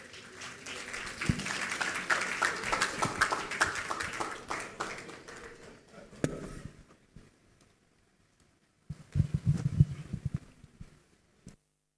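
An audience applauds a speaker at a Ghana forum on central banking and digital finance, steady clapping for about six seconds that fades to silence before a second short burst of claps.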